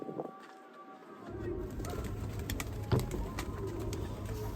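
A pigeon coos softly nearby amid a low background hum and scattered faint rustles and taps.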